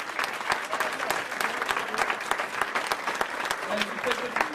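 Audience at a lecture clapping in a sustained round of applause, many sharp overlapping claps close and loud, with a few voices mixed in.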